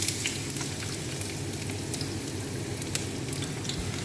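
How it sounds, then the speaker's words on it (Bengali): Onions sizzle steadily in a hot tawa, a dense, continuous crackling fry close up with small pops throughout and no talking. "তাওয়ার মধ্যে পেঁয়াজ দিয়ে দিব কিছু"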